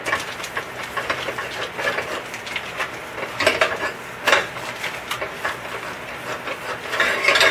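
A baking pan for cinnamon cookie crisps being greased with a leftover butter wrapper, heard as close, steady rubbing and scraping against metal with occasional light clanks and knocks as the pan shifts.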